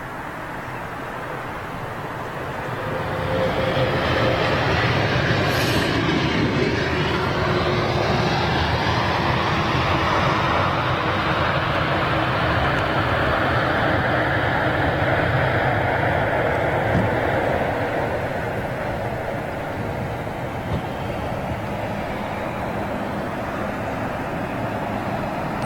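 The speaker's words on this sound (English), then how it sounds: "Hear those Trents humming." Rolls-Royce Trent jet engines hum steadily on an aircraft arriving at Heathrow runway 27R, a loud, broad, continuous roar that swells and holds for most of the stretch before easing slightly, with no talking.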